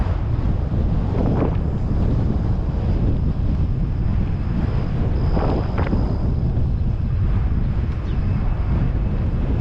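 Strong headwind and crosswind buffeting a microphone while riding a bicycle on a gravel route, a constant loud rushing roar with a few gusty swells and no voices.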